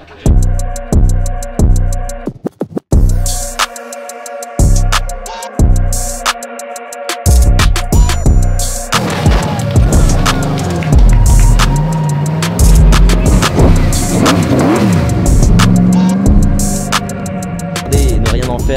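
A BMW E30 Touring race car running on ethanol at a Croix-en-Ternois motorsport event blips its engine in sharp repeated revs, then roars through a long continuous high-rpm run with gear changes, loud and close.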